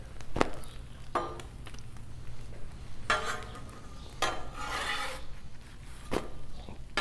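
Breakfast sliders get flipped with a metal spatula on a Blackstone griddle: sharp scraping strokes at irregular intervals over a steady background sizzle, close and moderately loud.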